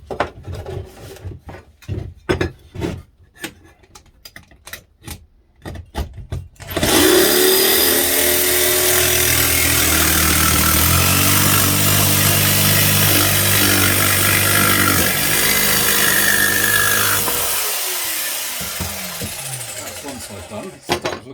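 A jigsaw fitted with a metal-cutting blade saws through a steel garden trowel scoop: a loud, steady buzzing rasp starts abruptly after scattered handling knocks, runs for about ten seconds, then slowly winds down.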